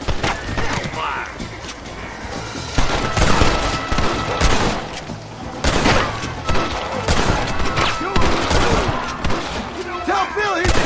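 Shootout gunfire in Red Dead Redemption, with rapid repeated shots crackling from several directions, loud and close, mixed with horse hooves and shouting voices throughout.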